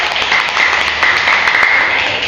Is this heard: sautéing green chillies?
no